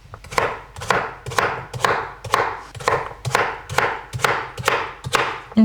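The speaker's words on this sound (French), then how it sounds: "je vais couper ma patate douce en cubes" A knife chops a peeled sweet potato into cubes on a cutting board: about a dozen evenly spaced, firm thuds, close and clear, with no talking.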